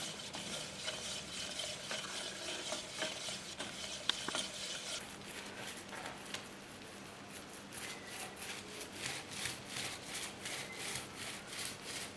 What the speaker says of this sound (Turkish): Şimdi karıştırıyoruz güzelce.